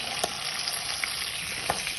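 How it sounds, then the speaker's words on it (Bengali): A whole chicken fries in oil in a pan over medium heat, a dense continuous sizzle with small pops, close and steady. "এখন আমি মুরগিটা এখানে দিয়ে দেব আর চুলার আঁচটা যেন একদম মিডিয়াম আঁচে থাকে"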